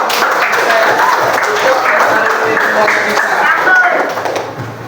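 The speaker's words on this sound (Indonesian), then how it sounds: "Beri tepuk tangan." A crowd of people clapping steadily for several seconds, a dense sustained round of applause that tapers off slightly at the end.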